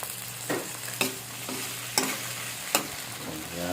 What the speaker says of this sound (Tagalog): nag-isa na po yung kamatis, bawang at sibuyas